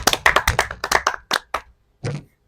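A group at a village meeting claps hands, producing a loud burst of close, uneven claps that thins into a few scattered claps and ends in one final clap.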